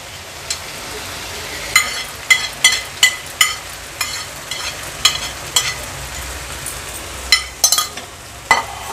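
Grated cauliflower goes into a pan of frying tomatoes for bhurji and is stirred, giving a steady low sizzle broken by repeated sharp scraping clatters of a spoon against the pan, close and clear.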